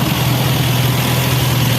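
A Toyota 4K engine runs roughly with a misfire, a loud, close, continuous low rumbling idle with a slightly uneven pulse and no voices.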